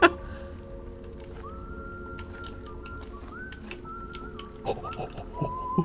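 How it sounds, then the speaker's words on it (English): In the Choo-Choo Charles video game, a character whistles the railroad tune in a steady thin melody, faint over rain-like ambience, with a few louder knocks near the end. "Is he whistling, "I've been working on the railroad"?"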